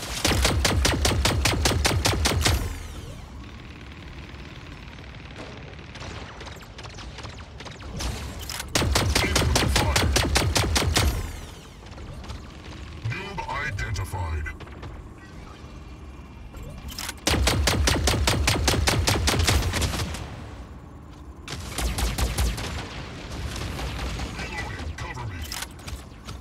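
Bursts of rapid automatic gunfire in a video game match, several loud sustained volleys separated by quieter stretches of mechanical clicks and background game sound.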